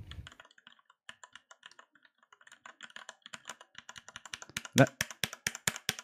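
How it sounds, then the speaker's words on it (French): Close-up clicky keystrokes on an ASUS ROG Falchion mechanical keyboard patter unevenly, starting sparse and building into a faster, louder burst of key presses near the end. "pour pouvoir vous faire écouter le bruit que ça fait, du coup, quand on tape dessus"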